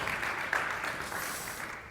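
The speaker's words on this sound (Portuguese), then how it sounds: "Queria pedir uma salva de palmas para a Adriana" An audience at a live podcast recording in Porto applauds the guest in a dense, even wash of clapping that fades slightly toward the end.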